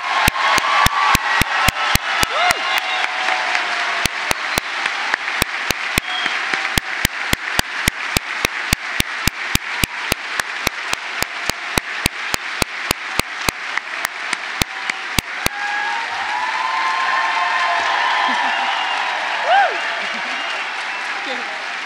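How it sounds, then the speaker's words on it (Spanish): Graduates at a university graduation ceremony receive applause: a steady crowd clapping, with rhythmic synchronized claps punctuating it for about fifteen seconds, then fading into murmuring hall ambience. "Un fuerte aplauso nuevamente."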